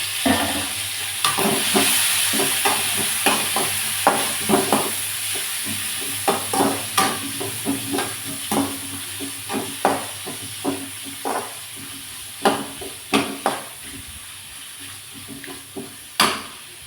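Chopped onions and tomatoes fry in a pan over curry leaves, giving a steady close sizzle broken by repeated scraping and clinking stirs of a spoon against the pan.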